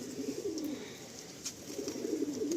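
Rajen mal Malwai pigeons coo in a low, steady rolling murmur that runs without a break, with a few faint higher chirps on top, fairly close and moderately quiet.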